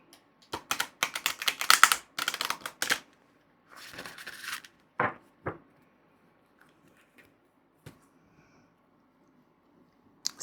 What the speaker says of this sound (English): And one last shuffle, and then we'll take a card from the top.